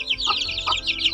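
Silkie and Rhode Island Red cross chicks cluck and peep steadily on a free-range farm, with bright high chirps layered over short repeated lower clucks, close and continuous.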